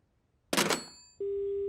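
On a broken telephone, a sharp handset click and rattle is followed by a steady, unbroken line tone that hums on alone.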